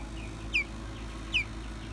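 Young chickens on a small farm give two short, clear calls about a second apart, standing out above a steady low background hum.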